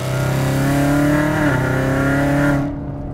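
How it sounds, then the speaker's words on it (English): A loud, close V8 engine of a bored and stroked naturally aspirated C6 Corvette Z06 with headers revs hard with a deep throaty roar, dips briefly mid-rev, then falls away as the throttle is released. "it is the loudest V8 I think I've ever driven"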